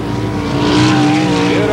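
Race car engines roar continuously at high pitch on the Ascot oval track in 1984, a loud whining drone that shifts slightly as cars pass.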